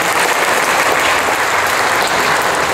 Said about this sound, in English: Wow, that's a round of applause.